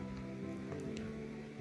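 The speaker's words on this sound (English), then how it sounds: "I added this vinyl at the beginning just for texture" Soft vinyl crackle laid over a dancehall beat, a faint hiss peppered with scattered tiny pops and clicks above quiet low tones, staying low in level for the whole short stretch.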